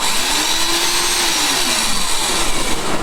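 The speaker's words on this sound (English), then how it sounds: "And then it starts drilling away." A farm drilling machine whirs loudly and steadily up close, its motor tone wavering slightly as it bites in, with no talking.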